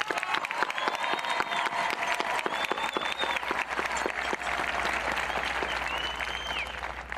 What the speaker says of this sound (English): could you please give another tremendous round of applause for our principal